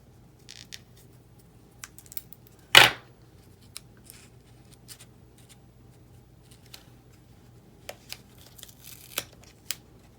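A single sharp snip of scissors cutting through artificial flower stems, with faint rustling and light handling of plastic leaves and petals before and after it in a quiet room.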